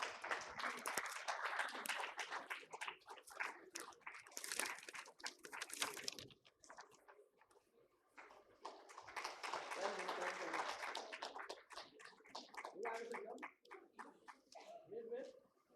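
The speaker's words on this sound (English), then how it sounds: "A round of applause, please." Audience applause at a livelihoods case study compendium release ceremony, a dense wash of clapping that swells, dips briefly midway, then rises again before fading near the end.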